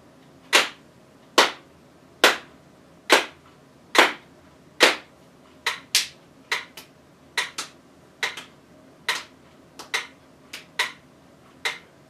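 Sharp, single hand claps land in a steady beat during a child's music lesson, about eighteen crisp, close claps spaced evenly over twelve seconds with near-silence between them.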